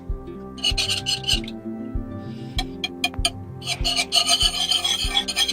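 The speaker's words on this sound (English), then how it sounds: "now take your whisk and in your mixing bowl" A whisk beating French toast batter in a mixing bowl outdoors, giving repeated rhythmic scraping strokes, close and fairly loud, with short pauses between bursts.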